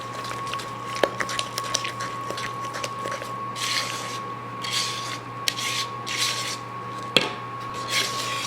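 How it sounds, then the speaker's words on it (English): Spatula scraping and folding sour cream into white cake batter in a bowl, a soft close rubbing with occasional clicks against the bowl and a steady hum underneath. "And I'm mixing it with my spatula."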